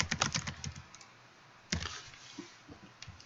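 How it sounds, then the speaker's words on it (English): Computer keyboard typing in bursts of quick clicks, a rapid run at the start and another after a pause, close and alone. "I'm just going to type in Destiny Hero."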